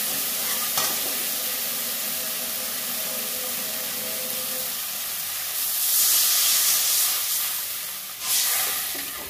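Spice masala for a fish curry frying in a pan with a steady sizzle and stirring, then a louder hissing burst of steam as water is poured in, easing and flaring again near the end.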